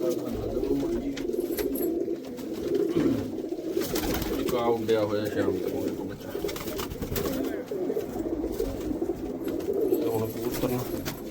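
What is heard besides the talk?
pigeons cooing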